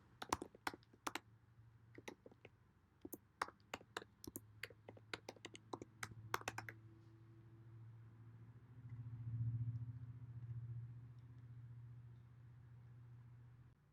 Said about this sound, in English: I'm gonna type in my name here and my email address.